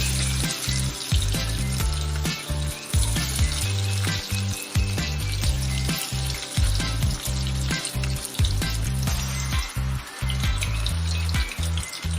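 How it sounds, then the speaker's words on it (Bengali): Chicken koftas with sesame and nuts fry in hot white oil in a wok, giving a loud, steady sizzle with dense crackling that runs the whole time, alongside a few low knocks from stirring. "কড়াই বসিয়ে সাদা তেল গরম করে নিয়েছি ওর মধ্যে কোপ্তাগুলো হালকা করে ফ্রাই করে নেব"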